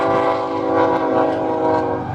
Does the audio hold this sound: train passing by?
yes